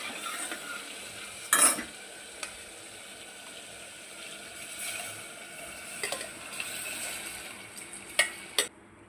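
Water saved from boiling field beans hits a hot spice tempering and is stirred: faint continuous sizzle with scattered sharp spoon clicks and scrapes at close range, no voices.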